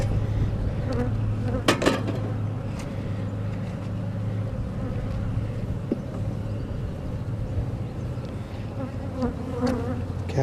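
Swarming honeybees drone loudly and continuously up close around an open hive during a hive inspection, a thick layered buzz with a few faint taps in the background.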